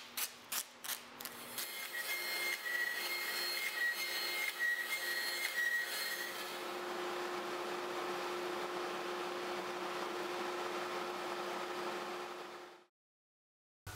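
A bandsaw cuts mahogany and walnut wood plugs covered in tape, a few sharp ticks first, then a steady loud whirring cut with a faint high whine that runs about eleven seconds before stopping abruptly.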